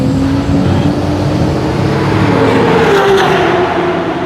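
A car's exhaust rumbles loudly near the Fuji Speedway track in Japan, seemingly running rich. The engine drones steady and close, with a rising tone running through it.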